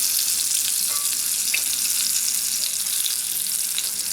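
Food frying over an aluminum beer-bottle stove, a continuous bright sizzle that holds steady and close with faint crackles.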